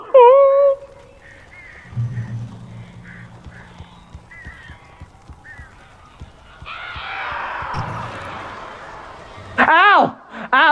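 Harsh crow caws break out in Alan Wake Remastered, a loud burst of calls near the end following stretches of character dialogue and a low rumble.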